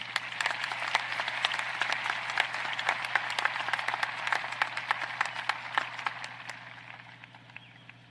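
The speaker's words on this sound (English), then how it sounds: "let's give one last round of applause for our 3 2021 Teachers of the Year." Audience applause at a high school graduation ceremony, a broad, fairly distant patter of many hands clapping that holds steady for several seconds and then thins out, with a low steady hum underneath.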